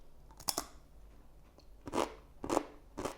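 Crisp, dry-cured presunto served on a gourmet Portuguese dogfish soup gives several sharp crunches close to the mic, in separate bites with quiet pauses between them.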